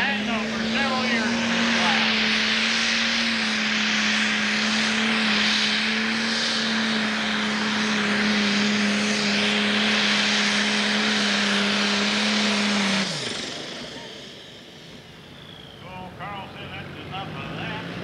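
A Case IH 7110 pulling tractor with sheet-metal bodywork roars loud and steady for about thirteen seconds at a 1993 Sandwich, Illinois tractor pull. Then the engine note drops away abruptly, with a voice over the roar.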